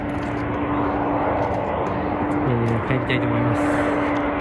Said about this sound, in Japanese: じゃあ、あの飛行機の着陸を見ながら、